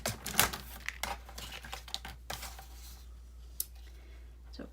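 Blade slicing through salvaged cardboard from a saved box, trimming a tag down to size: a burst of crisp cuts and crinkles near the start, then sparse scrapes and one sharp snip, close and fairly quiet.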